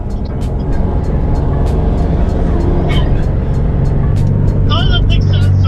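A 500HP Subaru STI with a rotated turbo and Tial Q blow-off valve drives under load, its steady engine drone loud and close throughout, with brief sharp whooshes and whistles, while people talk inside.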